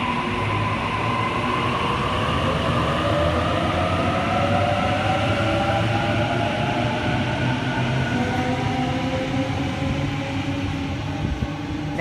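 A Sydney train pulls out of platform 2 at Edmondson Park with a loud, continuous rolling rumble and rising whine from the traction motors, sustained throughout without any speech.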